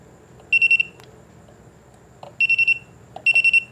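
Three bursts of rapid high electronic beeps from a voltage tester pen, about four pips each, over a low background hum.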